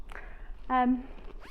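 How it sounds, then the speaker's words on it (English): A closed-ended zip is pulled once in a short, rasping burst that rises and fades. It sits close and clear against a faint background hum, with no voices. "So we have a closed-ended zip, which basically means one end is closed"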